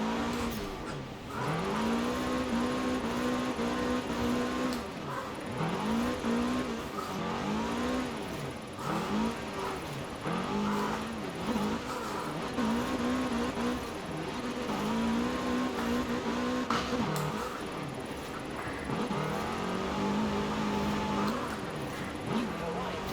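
A car drifting in Forza Horizon 4, with its engine revving up and down through a long run in repeated sweeping swells and tires squealing now and then, heard under steady talk.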